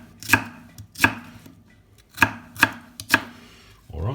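Sharp knife chopping on a cutting board while preparing a beef stir fry, five distinct loud chops at a loose, uneven rhythm, close and clear with no talk over them.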